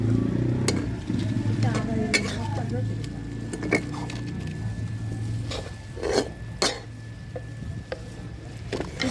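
Red amaranth greens coated in spice paste fry in a pan. A soft sizzle runs underneath while a utensil stirs and scrapes in sharp, irregular clicks, close up, and voices can be heard faintly.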